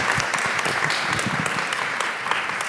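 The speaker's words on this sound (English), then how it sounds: "a big round of applause" A conference audience claps steadily and evenly at close range, a short, dense burst of applause with no voices on top.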